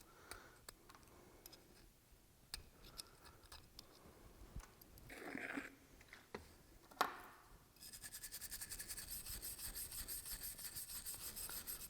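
Greasy oiler parts from a Beaudry power hammer are scrubbed clean, quiet scattered rubbing and scraping strokes that turn into a steady rapid brushing rasp in the final seconds.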